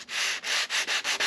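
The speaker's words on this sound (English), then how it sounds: "So I just run the sandpaper over and press my fingers on it." Sandpaper rubbed by hand over a sailboat hull makes six rhythmic rasping strokes, each a close, loud scratchy swish with short breaks between passes.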